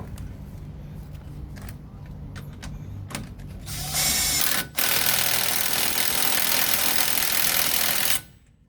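A ratchet with a 24 mm socket tightens the wheel bearing nut on a VW Caddy mk3, first as scattered clicks, then as a loud, fast continuous buzz of pawl ticks for about four seconds before stopping abruptly.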